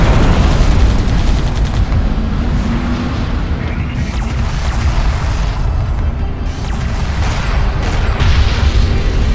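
Heavy battlefield gunfire and booming blasts from the Homeworld: Deserts of Kharak strategy game, a dense, continuous roar of shots and explosions that stays loud throughout with no break.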